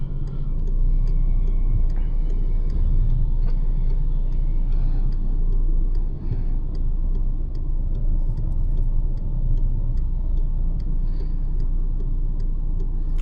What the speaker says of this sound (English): now your signal's on and you're turning right.